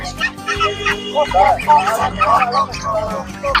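American Silkie chickens cluck and chirp in a busy, overlapping chorus, close by at a fair's bird stalls, with a voice speaking over them.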